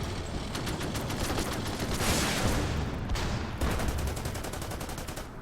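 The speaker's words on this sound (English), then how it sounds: "Let's try and snipe these guys with the armored car." Armored car gunfire in the Order of Battle strategy game, steady rattling automatic bursts over a dense roar of battle noise, with rapid rhythmic shots clearest toward the end.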